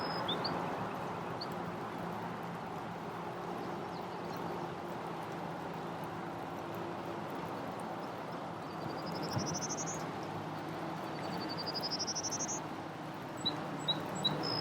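A faint, distant prairie warbler song: two short buzzy phrases rising in pitch, heard over a steady wash of insect and frog chorus.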